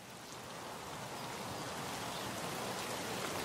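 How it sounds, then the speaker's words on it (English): Rain in the shooter game Escape from Tarkov falls as a steady, dense hiss of drops on surfaces, growing slightly louder and heard alone without talk. "It's raining."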